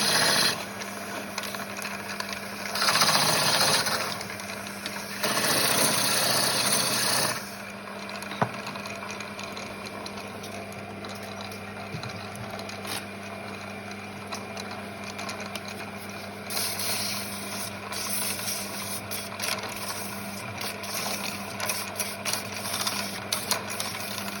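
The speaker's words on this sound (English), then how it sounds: "Rounding off the inner rings and a little bit more sanding." Inner wooden captive rings are rounded off and sanded on a lathe: a steady mechanical whir with bursts of louder, hissing abrasion near the start and again later, running continuously throughout.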